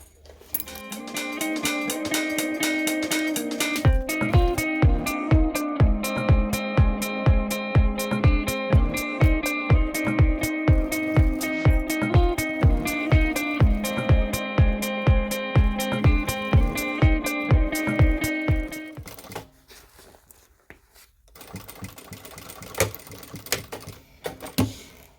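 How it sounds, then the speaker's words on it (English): A sewing machine stitches a messenger bag in a long, steady, close run of loud rhythmic needle strokes with a mechanical whir, then stops and is followed by a few scattered clicks and handling sounds. "let's go ahead and stitch that"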